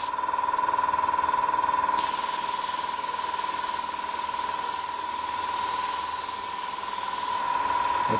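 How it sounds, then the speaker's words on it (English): A cheap airbrush sprays paint onto plastic in a continuous close, loud hiss that holds steady for several seconds, with a faint high whine underneath. "So let's have a little spray with this."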